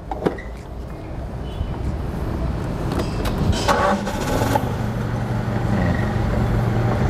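A gas-fuelled forklift engine runs close by, a low steady idle rumble that rises as the throttle is pressed, with a few knocks and clatters over it and no speech.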